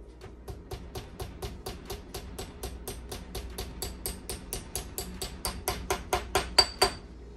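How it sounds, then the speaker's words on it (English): A hammer taps a skewer down into a wine bottle cake: a steady run of about two dozen sharp, evenly spaced metallic taps, getting slightly louder toward the end, close and alone. "the trickiest part is to start hammering this in and not hit the bottle with the hammer"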